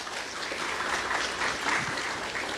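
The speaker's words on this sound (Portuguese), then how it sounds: "Vamos dar um aplauso ao Senhor." A church congregation claps together in a sustained burst of applause, a dense even patter of many hands heard from within the room, with no talking over it.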